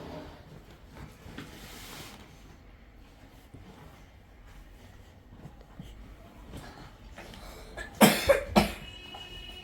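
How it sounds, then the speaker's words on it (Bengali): A person gives a short burst of three tickly coughs close by near the end, after a stretch of quiet room noise with faint, indistinct voices. "কাশি, শুধু কাশি, খুশখুশে কাশি।"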